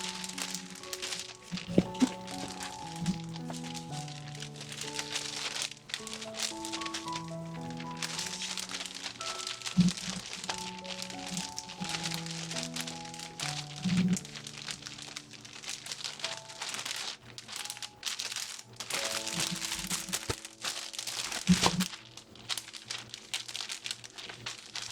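A junk journal paper pack is handled close up, producing continuous crinkling and rustling with occasional louder crackles, while soft background music plays underneath.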